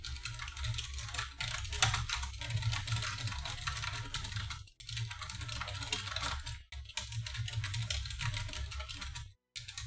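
Furious typing on a computer keyboard: dense, rapid clacking keystrokes run almost continuously and close up, broken only by a few short pauses, with no talking.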